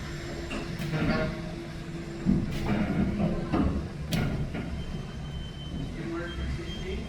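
Steady rumble and rattle of a steam-hauled train ride heard from inside a carriage, with clanks and brief knocks over continuous rolling noise and faint voices.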